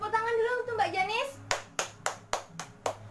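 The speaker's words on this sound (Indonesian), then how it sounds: "Tepuk tangan dulu untuk Mbak Janis." A classroom group gives a student a short round of clapping: after a brief stretch of talk, about seven separate, sharp claps follow at a steady, evenly spaced rhythm, fairly close and clear.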